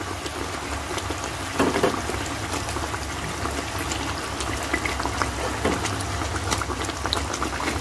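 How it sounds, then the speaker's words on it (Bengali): Fish pieces slipped one by one into a simmering Bengali fish curry, the pot softly bubbling and hissing throughout with small scattered plops and splashes close by. "এবারে একে একে মাছগুলো দিয়ে দেবো।"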